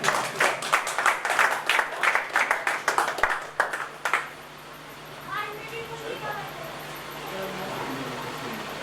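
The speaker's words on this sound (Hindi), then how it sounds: "आप लोग तालियों का नजारा पेश करें।" Audience applause at a mushaira poetry gathering, a burst of dense clapping over the first four seconds that then stops, leaving a quieter room with faint voices and background hum.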